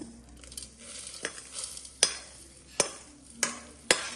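Dry red chillies, pepper, cumin, niger seeds and salt roasting in a pan, heard as a low sizzle with a few sharp scrapes and taps of a stirring spoon, fairly quiet with no talk.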